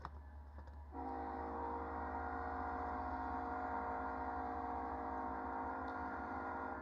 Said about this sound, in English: Yeah, there's a train coming.